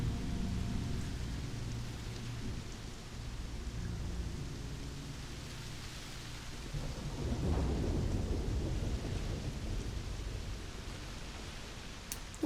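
Thunderstorm in the video game Starfield: steady low rumbling thunder and rain noise fill the scene, with a swelling roll midway, continuous and fairly loud, with no talking.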